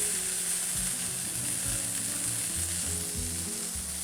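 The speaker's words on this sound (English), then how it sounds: "get a caramelization on that second side" Steaks searing in a hot pan for a pan-roasted steak dish, a steady loud sizzle and crackle of frying meat throughout, with no talking.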